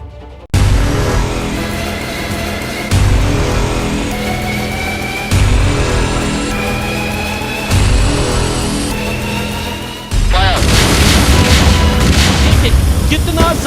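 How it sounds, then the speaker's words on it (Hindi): Five heavy explosions from a military bombing operation against militants in Anantnag boom one after another every few seconds, each followed by a rumbling roar, with a voice faintly underneath. "कितना जबरदस्त विस्फोट इस समय यहां पे हो रहा है।"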